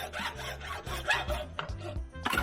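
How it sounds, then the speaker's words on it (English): Hacksaw with fine teeth cutting through a round pipe for a caravan clothes line, close by, giving a few uneven rasping strokes with no talking. "I actually found a hacksaw was the easiest saw to use because it's got the finer teeth, and it just seems to cut through this quite well"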